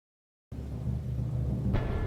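Rain falls during a battle in Medieval: Total War, a steady dense hiss with low rumbling that starts abruptly from silence and continues evenly, no voices.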